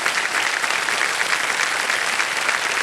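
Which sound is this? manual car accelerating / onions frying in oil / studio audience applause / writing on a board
studio audience applause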